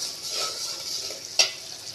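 Spices sautéing in a pan, a soft, faint sizzle with a brief sharp utensil scrape partway through.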